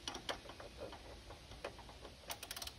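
A socket wrench on an extension ratchets while loosening a 9/16 bolt, giving a few quick clicking bursts, with a close run of rapid ticks near the end and quiet mechanical handling in between.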